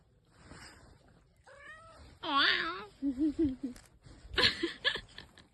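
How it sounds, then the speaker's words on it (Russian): A round, food-begging cat met on a mountain meows repeatedly, several clear rising and falling calls up close, with people talking and laughing around it. "Зате на горі ми зустріли котика, якому було неможливо відмовити у смаколику."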